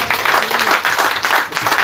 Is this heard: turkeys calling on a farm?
no